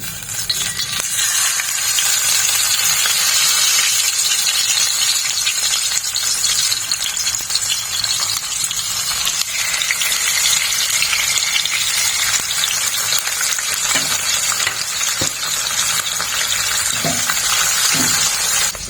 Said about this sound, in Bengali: এখন মাছগুলো একটু সাঁতলে নিই